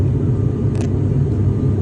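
Steady low roar and rumble inside a passenger airplane cabin as the aircraft keeps climbing after takeoff on a first Solapur to Goa flight, continuous and close with no talk.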